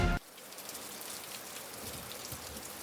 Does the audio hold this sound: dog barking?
no